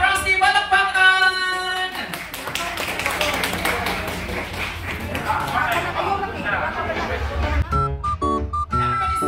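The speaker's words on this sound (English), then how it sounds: "Ladies and gentlemen, let's clap our hands." Crowd clapping at a children's birthday party magic show, steady rhythmic applause from many hands under music and an emcee's voice, continuing for several seconds before breaking into scattered claps.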